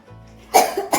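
A person coughs close and loud, with a short throaty hum before it, then a sharp burst and a quick second cough.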